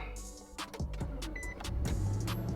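A 2021 Nissan Titan Pro-4X pickup truck starting from its push button: a few sharp clicks and whirs of electric motors, followed by a low rumble that swells and settles into a steady idle. No speech.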